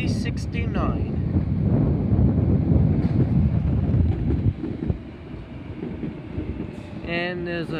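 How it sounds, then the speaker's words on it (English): A Waratah passenger train pulls into platform 5 at Redfern station, its broad rumble and rolling rail noise close and steady, with wind buffeting and a station announcement voice speaking over the sound. "And Waratah arriving at platform number 5 for a City Circle via Town Hall service."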